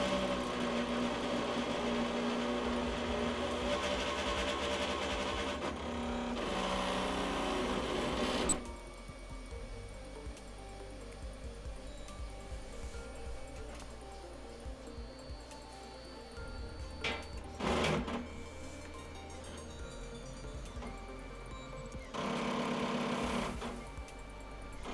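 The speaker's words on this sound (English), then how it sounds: "I had to realign the y-axis, which is why I was making all that grinding noise" A Solidoodle 4 3D printer grinds and whirs mechanically while its y-axis is realigned, loud and continuous at first, then quieter with intermittent louder mechanical bursts.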